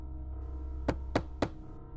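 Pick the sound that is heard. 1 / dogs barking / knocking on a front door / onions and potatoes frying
knocking on a front door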